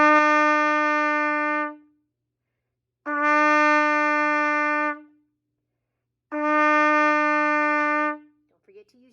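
Trumpet sounding a written E fingered with valves one and two, three separate sustained tones, each lasting about two seconds with clear gaps between them, bright and steady and close up.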